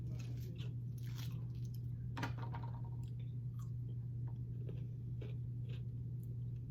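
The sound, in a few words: chewing pickles during a taste test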